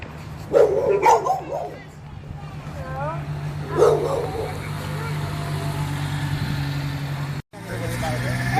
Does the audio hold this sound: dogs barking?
yes